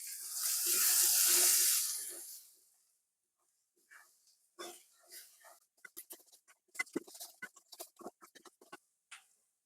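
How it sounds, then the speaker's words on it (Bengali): Water is poured into a pan of snakehead fish curry, a brief rushing splash at the start followed by quiet, scattered clinks and light handling sounds close by. "এর ভিতরে ধুয়ে দিয়ে দিলাম পানি।"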